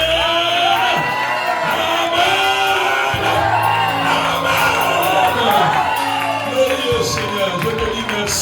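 A church congregation at an evening service cheers, whoops and shouts with joy, a dense crowd roar sustained throughout with many overlapping voices and music underneath.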